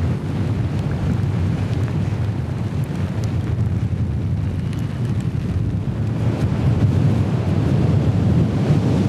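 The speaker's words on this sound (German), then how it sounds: "Aber es wird immer ungemütlicher. Schon 6 Windstärken." Strong wind of about force six on a beach on Norderney, a continuous loud roar buffeting the microphone with low rumbling gusts and no pauses throughout.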